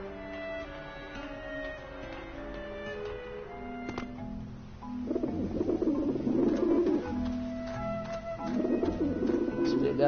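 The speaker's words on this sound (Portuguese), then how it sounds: "Os passarinhos." Birds coo in the video game Grim Fandango, soft repeated coos over a quiet layered game soundscape, growing denser and louder in two bursts toward the end.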